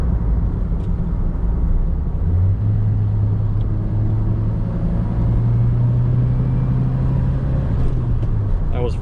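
A 1984 Pontiac Fiero engine drones in fourth gear from inside the cabin, a low, steady rumble whose pitch rises slightly as the car pulls. Someone speaks over it.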